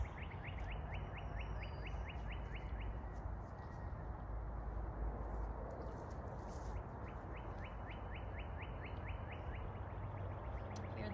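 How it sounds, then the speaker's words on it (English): Songbirds trill and chirp outdoors in a Maine garden, with repeated rapid chirp series standing out near the start and again later over a steady broadband background of wind or rustling. "Hear the birds? Gosh, I love to hear the birds."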